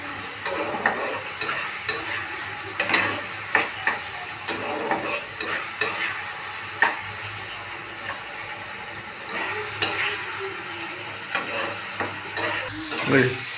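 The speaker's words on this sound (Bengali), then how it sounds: "টমেটোটা ভালো করে ওই আলু পেঁয়াজ ভাজার সাথে ভালো করে ভেজে নিতে হবে" Tomato is fried and stirred together with potato and onion in a pan, with a spatula scraping in repeated uneven strokes over a soft, steady sizzle, close by and without talk.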